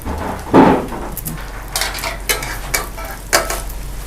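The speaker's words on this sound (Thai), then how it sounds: "กลับข้างแล้วก็ค่อยๆ ทอดไปค่ะ" Omelette with straw mushrooms frying in oil in a pan, steady close sizzle with a few louder bursts and scraping turns as the egg is flipped, no talking.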